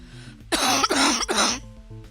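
Three loud, harsh coughs in quick succession, close up, with quiet before and after.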